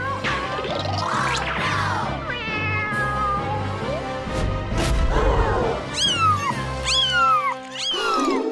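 Several cats meow and yowl repeatedly over a steady rhythmic music backing, with a couple of short sharp bumps, close and loud throughout.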